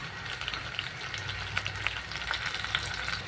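Tomatoes added to hot oil with lightly fried onions, cooking for a fish curry: a steady, close sizzle with small crackles and scattered stirring clicks, no talking.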